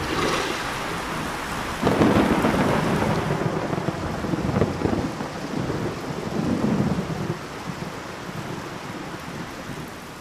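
Heavy monsoon rain pours down steadily over forest in Nagarhole while deep thunder rumbles, swelling louder partway through before settling back into the constant downpour.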